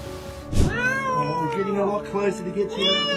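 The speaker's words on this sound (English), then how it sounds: "A cat got stuck in a small crack between two walls and was begging for help." A cat stuck in a narrow crack between two walls meows repeatedly in loud, drawn-out, pleading cries, close by, with a sharp noise near the start.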